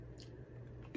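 A bite into a garlic parmesan pretzel knot gives a soft, muffled chew that runs through the moment, with one brief firmer crunch near the end, close up and quiet without any talk.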